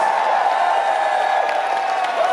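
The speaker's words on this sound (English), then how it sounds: "Please keep it going for Jess Parsons on vocals and keyboards." Concert audience at Webster Hall in New York cheering, whooping and applauding after a band member is introduced, a steady bright crowd roar with scattered shouts throughout.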